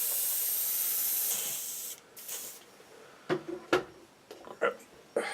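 An airbrush sprays cleaner through its nozzle during a model aircraft build, a close, steady hiss for about two seconds, followed by quieter short bursts and clicks of handling.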